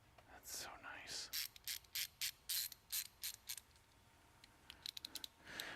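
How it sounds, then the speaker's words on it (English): Small ratchet with a ball bearing release being clicked by hand, a quick run of crisp, quiet clicks in a steady rhythm followed by a faster cluster, close up with faint murmuring at the start. "I think I like the ratchets with the ball bearing release"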